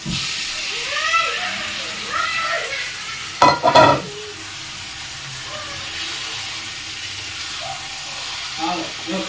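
Onions frying to brown in a pan, a close steady sizzle with a burst of stirring scrapes partway through and faint talk in the background.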